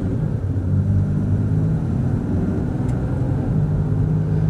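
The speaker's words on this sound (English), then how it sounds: "You can definitely tell you got a Cummins under the hood for sure." A deep, steady diesel engine rumble from a RAM 4500 truck with an untuned Cummins engine under throttle runs throughout at constant loudness, a heavy low drone with no voices over it.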